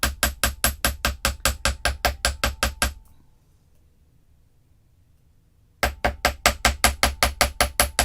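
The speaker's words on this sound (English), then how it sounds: "I'm going to hammer just a tiny bit more." Hammering on adjustable wire bangle bracelets: rapid, evenly spaced metallic taps ring out in a steady run, stop for a quiet few seconds, then resume at the same brisk pace, close and alone.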